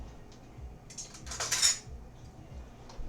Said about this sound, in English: I'm going to grab another clean spoon.